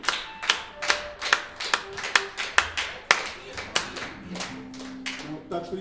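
A small concert audience claps in brief bursts, sharp separate hand claps with a loose rhythm, fading toward the end as a voice begins.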